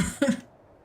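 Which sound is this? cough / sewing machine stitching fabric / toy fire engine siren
cough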